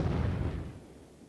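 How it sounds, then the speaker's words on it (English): Live nerve gas shells burst during a military field test, giving a heavy, rumbling low explosion that rolls out loudly and then fades into a long decaying tail, with no voices. "This footage, never before seen on television, shows a field test of live nerve gas shells."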